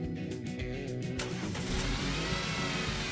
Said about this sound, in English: Now you can start the engine